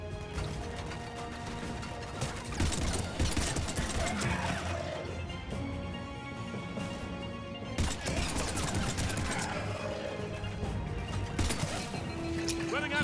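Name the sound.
gunfire from enemies in the video game Mass Effect 3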